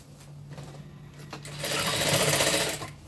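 Up close, a sewing machine stitches a tutu skirt closed: a low motor hum first, then a loud, fast, steady run of stitching that slows near the end.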